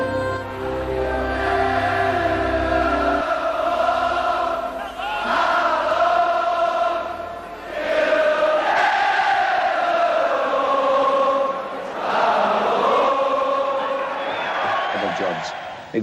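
A large football crowd at Liverpool roars and chants in swelling waves, loud and sustained with rising and falling surges.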